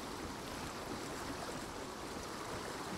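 Water in the video game Vigor, a faint, steady rush of flowing water that stays even throughout with no voices.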